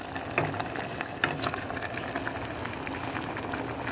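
A tomato and egg mixture boils in a pan, giving a steady bubbling, sizzling wash with small pops and clinks, close and moderately quiet, with no talking.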